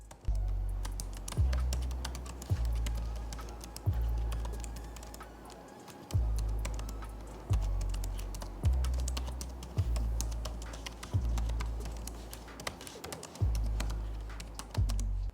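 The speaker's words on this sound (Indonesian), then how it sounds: "berikut ini adalah contoh suara feedback dari keyboard Acer Swift 3 OLED SF314-71" Steady, fast typing on an Acer Swift 3 OLED SF314-71 laptop keyboard, close up, with soft, even key clicks running continuously and no voices.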